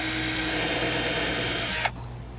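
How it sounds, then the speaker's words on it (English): A power drill with a small bit bores a pilot hole for a CargoSmart D-ring tie-down anchor, whirring loud and steady up close before cutting off abruptly near the end. "we're gonna make a pilot hole with our small drill bit. So just get that in place and drill down."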